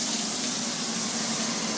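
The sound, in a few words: water pouring into a pot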